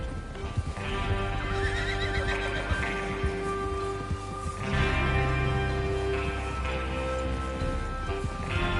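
Horses in a PS4 video game whinny repeatedly over a steady clip-clop of hooves, with game music and ambience running underneath throughout.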